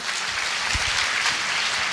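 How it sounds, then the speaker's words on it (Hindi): An audience at a gathering claps hard and fast, a dense wash of applause from many hands that stays loud and steady throughout. "जोरदार ताली हो जाए इनके लिए"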